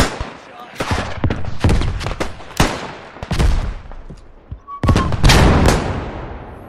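Gunshots in the multiplayer shooter Beyond The Wire, a string of sharp, loud cracks spaced irregularly across the moment, some close and punchy, with a dense cluster of shots near the end.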